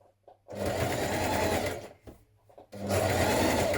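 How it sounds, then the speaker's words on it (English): A sewing machine stitches a hoodie seam and back tacks, running in two loud, steady whirring bursts with a brief pause between them. "we're going to stitch along here. We're going to back tack."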